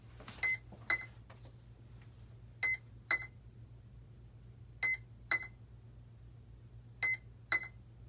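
Short, bright electronic beeps from a Freewing F-14 model jet powering on arrive in four quick pairs, evenly spaced, over a steady low hum.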